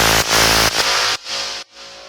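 A one-shot synth note is played normally, a bright, noisy synthetic tone that sounds in four short chunks, each cut off sharply and quieter than the one before, with nothing else heard.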